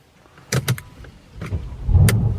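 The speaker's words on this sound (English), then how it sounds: "Look at the steering wheel, how it moves down." An electric motor whirs inside a Mercedes AMG as the electric steering column moves down, with a few clicks and thumps, then the low hum of the V8 starting swells at the end.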